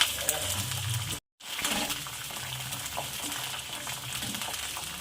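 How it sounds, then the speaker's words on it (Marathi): Peanuts and green chillies roasting in oil in a pan over slow-medium heat for a peanut thecha chutney give a steady, close hissing sizzle that cuts out briefly near the start and then resumes. "छान भाजून घ्यायचा याला तेलामध्ये फ्राय करायचं"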